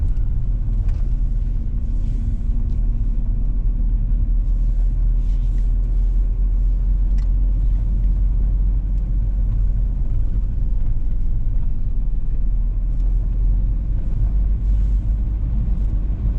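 Steady low engine rumble and road noise from inside a VW T5 long-wheelbase high-roof camper van with a 1.9 TDI 102 BRS engine, driving slowly through a narrow market-town high street, constant and unbroken.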